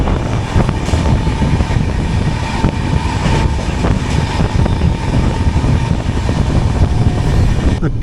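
Steady loud rumble and rattle of the Jan Shatabdi Express heard from inside an AC chair car, continuous low roar with faint rhythmic clunks of the carriage, no one speaking.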